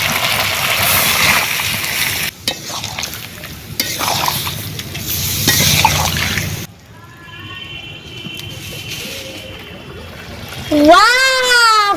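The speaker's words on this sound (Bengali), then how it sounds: "জল নিয়ে জলটা দিয়ে দেবো মাংসের মধ্যে" Chicken curry sizzles and hisses in a hot pan as water goes in, with steady stirring and scraping, then a calmer bubbling; voices are heard in the background and near the end.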